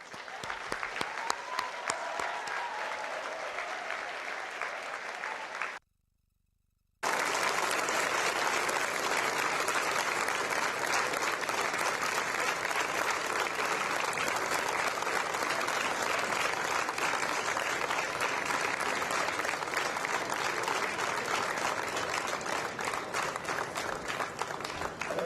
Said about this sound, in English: give them a deserving round of applause